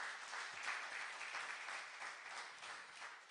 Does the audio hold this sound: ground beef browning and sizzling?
no